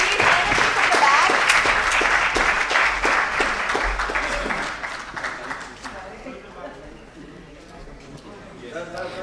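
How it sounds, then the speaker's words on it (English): An audience at a corporate awards ceremony applauds a winning team, a loud, dense clatter of many hands that fades gradually toward the end, with a voice speaking over it. "Audience, huge round of applause, please."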